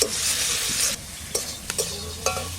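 Chillies stir-frying with elephant-foot taro curry, a loud hissing sizzle up close that eases off, followed by several clattering spoon stirs.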